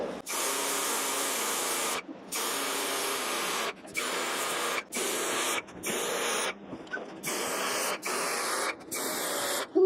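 A Lefondat 2-in-1 airless paint sprayer hisses loudly in long, steady passes while spraying primer, broken by brief pauses, with no voices heard.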